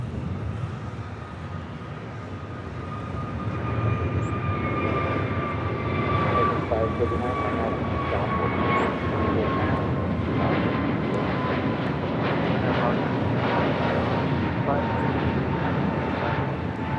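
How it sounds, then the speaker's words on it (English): An American Airlines A321neo jet departing LAX on flight 265 to La Jolla, a steady broad engine roar building after a few seconds and holding loud, with a voice talking over it. "Next departure is at American A321neo heading to La Jolla, flight 265."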